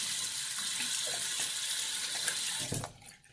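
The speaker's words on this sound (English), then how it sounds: "let me rinse off the oil real quick" Tap water runs steadily into a sink while oil is rinsed off, a continuous close hiss that cuts off near the end and is followed by a few small splashes.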